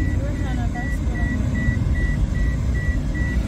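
Regular high-pitched vehicle reversing beeps repeat at an even pace over a low engine rumble on a road in Bog Walk, Jamaica, with a few other chirps near the start.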